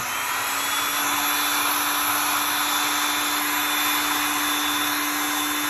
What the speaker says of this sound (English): Heat gun, stick it all down.